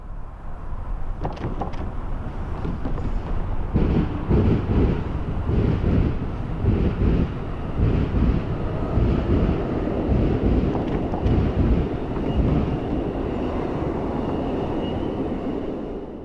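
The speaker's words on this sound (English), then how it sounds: "Amtrak's northbound Saluki passes." Amtrak's northbound Saluki passenger train rolls past close by, a steady loud rumble of wheels on rail with wind buffeting the microphone throughout, no voices.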